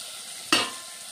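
Onions with green chilies and a pinch of salt hit hot oil in a pan, giving one sudden close sizzling burst that quickly fades into a low, steady frying hiss.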